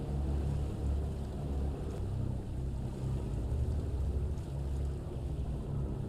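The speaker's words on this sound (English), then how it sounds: "Let's turn on the engine." A boat engine idles at a highland aquaculture fish farm, a steady low throbbing hum with faint wind and water in the background and no talk.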